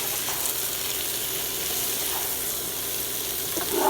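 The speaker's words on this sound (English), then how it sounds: "warm the broccoli up in this onion garlic butter sauce" Broccoli warming in an onion garlic butter sauce sizzles in a pan, a steady close crackle at even loudness that swells slightly at the end as it is stirred.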